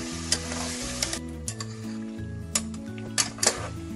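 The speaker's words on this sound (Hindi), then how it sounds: "मटन को ऑयल के अंदर अच्छी तरह से फ्राई करना है।" Mutton frying in oil in a pressure cooker for korma, a steady close sizzle with occasional stirring scrapes and clinks, no talk.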